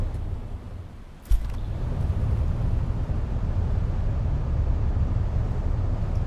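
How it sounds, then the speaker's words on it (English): Steady low rumbling drone of a boat engine in the video game Ships at Sea, constant and unchanging after a brief click near the start, with no other sounds over it. "I'm not necessarily a boat engine expert. Could be a little bit more... Needs a little bit more oomph"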